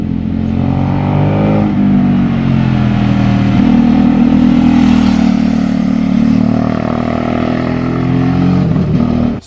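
A Ducati Supersport S motorcycle engine runs loud and close, its drone climbing and falling steadily through a sustained rev before cutting off abruptly at the end.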